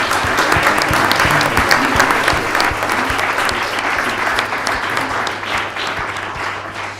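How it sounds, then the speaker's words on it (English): Sustained applause from a conference audience, steady and dense with many hands clapping at once, continuing loudly for several seconds without talk over it. "So I ask you to join me in a big applause for them"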